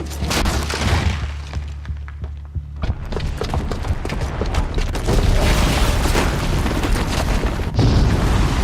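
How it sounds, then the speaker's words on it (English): A booby-trapped bomb detonates in Horizon Zero Dawn, with heavy booming blasts, crashing debris and shattering, a low rumble giving way to loud, sustained rolling explosions and clattering impacts. "the booby trap on the bomb downstairs is gonna get set off"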